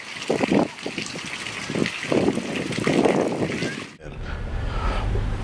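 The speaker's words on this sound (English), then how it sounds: "after all these centuries, the irrigation system still works." Water running through an ancient Inca irrigation channel in the old town of Ollantaytambo, a soft continuous trickle and rush heard outdoors with some wind.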